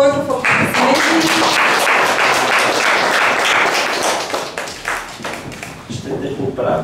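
Audience applause at a father-of-the-year awards ceremony in a gallery, loud dense clapping close by with some voices mixed in, tapering slightly toward the end.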